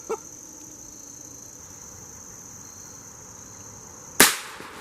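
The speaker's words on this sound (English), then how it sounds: "and then we'll go ahead and shoot him" A single sharp gunshot cracks out near the end, close and loud with a short decaying tail, killing a rooster outdoors. A faint pop sounds at the start, and a steady background hiss runs throughout.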